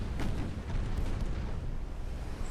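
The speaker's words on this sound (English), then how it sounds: "Ammo detonation there." A warship's ammunition detonation in Ultimate Admiral: Dreadnoughts rumbles as a heavy, sustained low-end blast with crackling debris, loud and close throughout with no voices over it.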